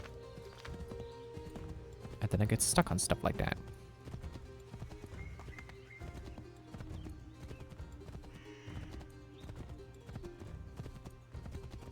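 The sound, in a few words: called horse galloping and neighing in Assassin's Creed video game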